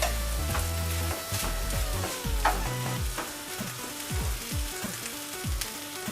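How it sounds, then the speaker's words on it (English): A keto no-carb stir-fry sizzles steadily in a pan while being turned, with repeated scraping and stirring strokes over a continuous loud frying hiss, no voices. "We'll let that cook now for about 4 or 5 minutes and keep turning it."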